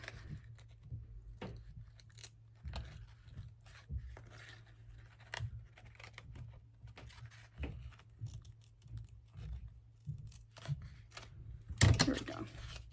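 Scissors cutting scrap fabric for a journal pocket: a run of close, crisp snips and rustles at a steady pace, with a louder clatter near the end and a low hum underneath.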